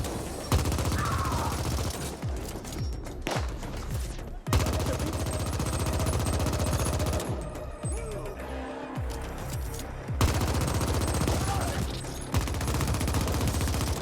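Gunfire in the video game The Ascent rattles in dense, continuous bursts of automatic fire with sharp shots over a loud game soundscape, nearly unbroken with brief lulls.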